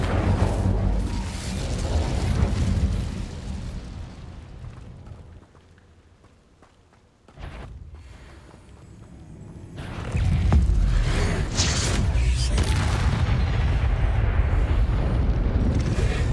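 A fire spell cast in the Hogwarts Legacy video game bursts out as a heavy, rumbling whoosh, dips to a near-silent lull, then erupts again into a loud, sustained roar of flame with no talking.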